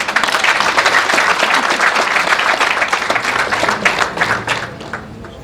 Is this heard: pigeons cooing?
no